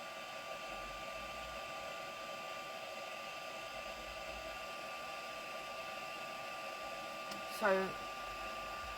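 A heat tool blows hot air over an art journal page at a crafting session, a steady close broadband whoosh running throughout, with a brief spoken word near the end.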